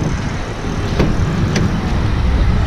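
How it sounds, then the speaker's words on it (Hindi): A car driven along a road between Varanasi and Kochas gives a steady, loud interior rumble of engine and tyre noise, with a couple of faint clicks and no speech. "तो पोषण गाड़ी चलाने वाला है, देख सकते हो यहाँ प"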